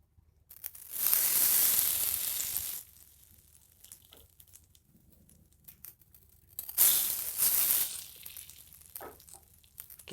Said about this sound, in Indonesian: kita siram dengan minyak panas